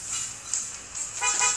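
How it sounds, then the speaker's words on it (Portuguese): A car horn in the mobile driving game Dr. Driving gives a short, steady electronic honk with a thin, bright tone, heard alone with no talk over it. "Buzina."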